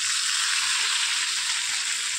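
Ground masala paste hits hot oil with sliced onion in a pan for a tuna fish curry, a loud, steady sizzle and crackle that stays close and continuous throughout, with no talking.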